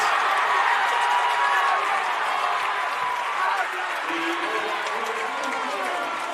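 Crowd at a high school basketball quarterfinal game roaring and cheering loudly and continuously after a made basket and foul, a broad wash of noise with faint voices mixed in.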